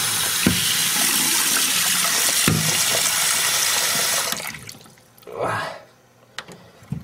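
Household toilet flushing, a loud close rushing of water that cuts off partway, followed by quieter refilling trickles and gurgles.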